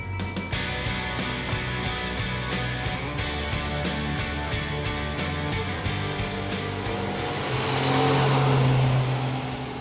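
Close, loud Ferrari 250 GT engine note under acceleration, a continuous rising exhaust roar with gear changes, swelling into a harsher high-revving wail near the end, with no talking.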